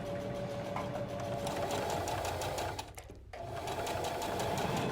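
A sewing machine stitches a fabric face mask, its needle running in a steady, fast rhythm close by, with a brief pause near the end before the stitching resumes.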